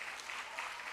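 Brief, faint applause from a congregation at an evening church service, a soft continuous patter of many hands clapping without interruption.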